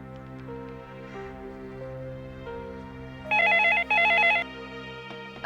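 A telephone rings in two short, loud, warbling bursts near the end, cutting over a quieter bed of low, sustained background tones.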